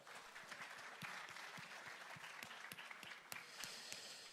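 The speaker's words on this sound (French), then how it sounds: "Applaudissez-les encore bien fort" Audience clapping steadily at a car-of-the-year jury presentation, a dense, sustained patter of many hands with sharper individual claps standing out, fairly close and even in loudness throughout.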